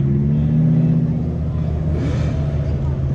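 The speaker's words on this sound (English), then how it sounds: "this is the bullwhip Lambo" A Lamborghini Huracan with a 'bullwhip' exhaust at a rally, a loud, close deep engine rumble that swells briefly with a rev partway through.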